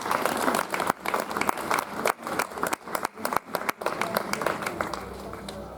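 An audience at a Bulzi poetry evening breaks into applause, a dense, steady wash of many hands clapping close by that briefly thins out a few times before continuing.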